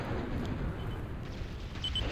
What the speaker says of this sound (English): Nice Arbitrator missile there, and another one. Beautiful explosions.